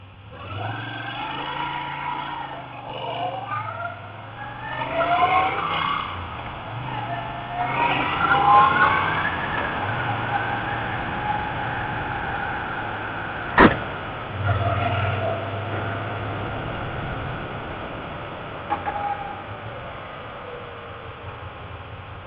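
A 2019 Moto Guzzi V7 III Stone motorcycle engine runs and revs on a test ride, its rumble rising and falling through several throttle surges under wind noise, with a sharp click partway through.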